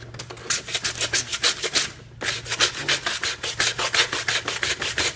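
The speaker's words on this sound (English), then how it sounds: "That's the poor boy hand sander." A homemade hand sander scrubbing across a piece of wood in quick, rhythmic rasping strokes, loud and close, with one brief pause before the steady back-and-forth resumes.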